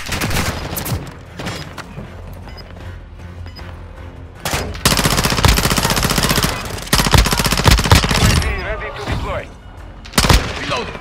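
A firefight on the Black Gold map in Call of Duty: Modern Warfare 2, with loud, sustained machine-gun bursts and scattered single shots between bursts, and brief voices in the mix.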